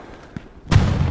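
Gunfire in the World War II shooter Hell Let Loose: a faint crack followed by a loud, close, booming shot or blast that rings on, with no talk over it.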